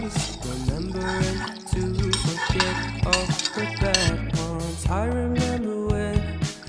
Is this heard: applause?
no